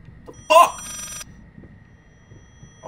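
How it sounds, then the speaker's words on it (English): A telephone in the video game Layers of Fear gives one short, loud burst of ringing with a trailing electronic buzz. Quiet background noise follows it. "Okay, the phone is back again."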